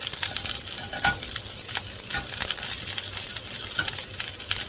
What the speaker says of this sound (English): even with making sure that they have dried off, you still get a little bit of splatter